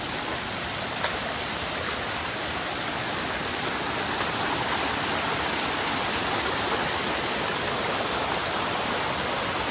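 Water in a stream at Bhimashankar rushes steadily and loudly, a dense, unbroken wash that stays even throughout with no voices.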